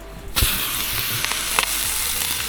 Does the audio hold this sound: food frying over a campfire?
yes